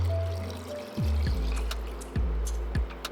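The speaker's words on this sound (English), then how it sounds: "Follow that with vegetable stock and water." Vegetable stock and water poured into a pot of corn soup with coconut milk and creamed corn, a steady close liquid stream with a few bumps and splashes as the pouring shifts.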